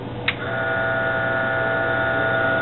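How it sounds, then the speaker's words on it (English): An IMSAI 8080 setup's 8-inch floppy disk drive switches on with a brief click, then settles into a steady, continuous electrical hum that stays even and fairly loud throughout. "let's turn on our disk drive machine"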